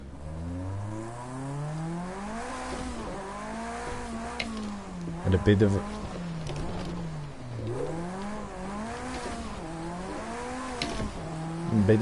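A race car engine in Project CARS 2, a Rallycross car wearing Carlos Sainz livery, revs up and down through gear changes with rising and falling whine, occasional tire noise, and someone speaking briefly.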